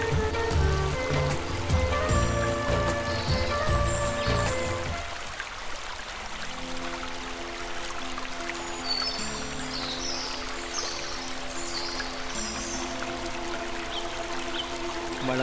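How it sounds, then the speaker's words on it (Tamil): A forest waterfall at Vilpatti, Kodaikanal, rushes as a steady broadband pour of falling water, fairly close and continuous, with birds chirping faintly above it in the later part. "அருவிக்கு கிட்ட போய் சூப்பராக இருக்குது அருவியை பார்க்க"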